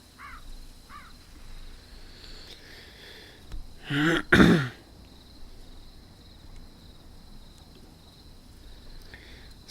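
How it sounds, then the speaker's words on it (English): A person clears their throat once, close and loud, with two quick rasping bursts in the middle of otherwise quiet surroundings with faint background chirps. "me clearing my throat is a bit too loud"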